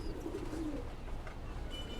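A female pigeon coos in low, rolling phrases close by, one clear call standing out early and softer murmuring continuing over a steady background hum.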